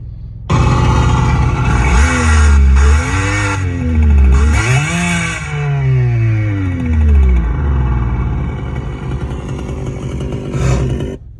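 A racecar engine sound plays from the RevHeadz novelty device, loud and buzzy, climbing and falling through several revs with rising pitch sweeps before easing off, with a short burst near the end and no voices.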